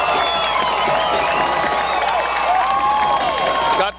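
Football fans at a high school game between LHS and Greenfield keep up a steady roar of cheering and mixed voices, with a few individual shouts rising above the crowd throughout.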